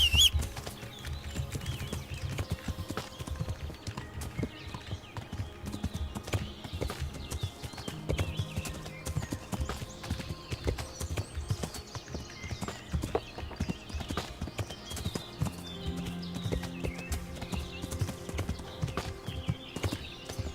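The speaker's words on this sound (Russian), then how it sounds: "Опять лошадь балуется, брыкается." Horse hooves clip-clop steadily and close for the whole stretch as a horse moves and bucks in the medieval game Kingdom Come: Deliverance, with occasional snorts and shuffles and no talking.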